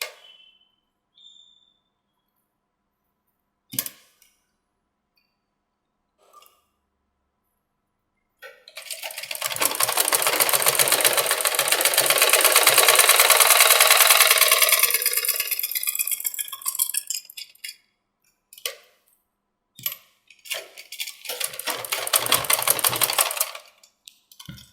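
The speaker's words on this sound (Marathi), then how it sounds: "आणि इथून शिवायचं कडेकडेने." A sewing machine runs in bursts while stitching along the edge of a fabric strip on a princess-cut blouse, with one long steady run of several seconds followed by shorter starts and a final stretch of stitching, close and fairly loud.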